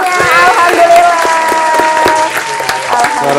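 Dense, steady audience applause at an Indonesian talk show episode, loud and close for the whole stretch, with a voice speaking over the clapping.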